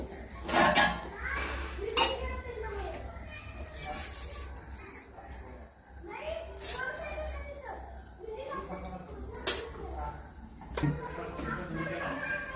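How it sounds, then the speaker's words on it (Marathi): A kadhai (wok) is set down on a kitchen stove and a spoonful of oil is added, bringing scattered metallic clinks and pan clatter. The clinks come intermittently, close by, and someone talks over them throughout. "कढई ठेवले, थोडंसं तेल घालूया, चमचा बरच, जास्त नाही घालायचं तेल।"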